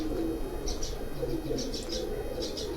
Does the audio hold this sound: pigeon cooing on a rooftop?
yes